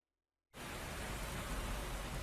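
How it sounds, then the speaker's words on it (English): Heavy rain starts abruptly from silence and then pours steadily as a dense, loud hiss in a cutscene from the Constantine video game. "Then the rains came."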